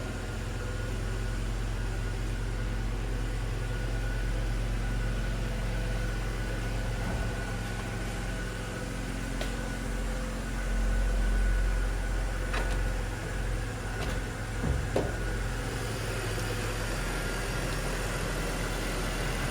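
A 2003 BMW X5 with a 5-speed gearbox idles steadily in the engine bay, a smooth, constant low hum heard up close with a few faint ticks and no talking.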